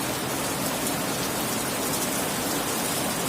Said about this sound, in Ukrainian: а сьогодні, от подивіться, який дощ